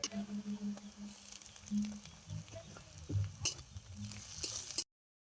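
Onion with ginger garlic paste frying in a pan makes a quiet sizzle and patter, with intermittent stirring scrapes and small clinks before it cuts off.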